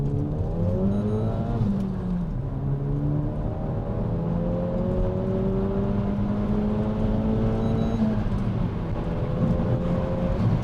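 A Renault Megane R.S. 280 hot hatch's four-cylinder engine accelerates hard through the gears, its drone rising in pitch, dropping briefly at a shift, then climbing again.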